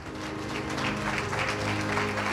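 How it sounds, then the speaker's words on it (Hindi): Church congregation clapping for the Lord during a Hindi sermon, a brief steady wash of applause at moderate level with a low hum underneath. "कर सकते हैं प्रभु के लिए ताली।"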